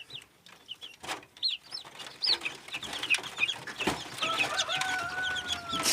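Chickens cluck and chirp close by as they eat feed in a village yard, with scattered high peeps and a busy, rustling background.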